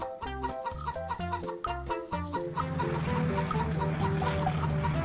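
Chickens cluck in a cartoon, a rapid rhythmic run of loud, close clucks that builds into a dense, overlapping flock chorus.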